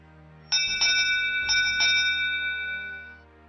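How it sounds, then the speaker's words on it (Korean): A bell rings out to close a contest at sundown, with about four clear metallic strikes in quick succession whose bright ringing tone lingers and slowly fades. "어느덧 해가 지고 대회를 마치는 종이 울렸습니다"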